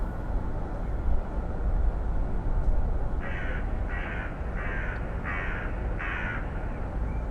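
Crows cawing on a live street camera in Kyiv: five evenly spaced caws in the second half, moderately near, over a steady wash of city traffic noise.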